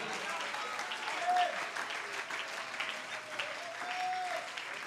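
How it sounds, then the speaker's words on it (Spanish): A church congregation claps loudly and continuously in praise, a dense, sustained wash of many hands with a couple of brief tonal whistles or voices rising above it near the middle and end. "Dale ese aplauso fuerte al Rey de la Gloria."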